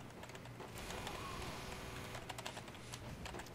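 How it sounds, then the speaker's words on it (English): Computer keyboard typing sits faintly in the background as a run of soft, irregular key clicks against steady room noise and low hum. "Can you hear my keyboard typing?"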